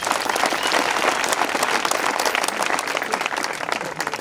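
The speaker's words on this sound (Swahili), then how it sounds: "Tupige makofi, tumepata zawadi." An audience claps together after prizes are announced at a gathering, a dense, steady round of applause that stays loud and close throughout.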